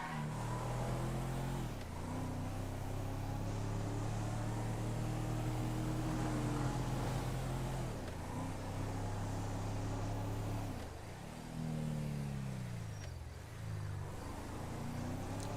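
Engine of a slow, poorly tuned car in a GTA roleplay game, a steady droning hum with shifting pitch as it accelerates and eases off through turns, running continuously and fairly loud with no talk.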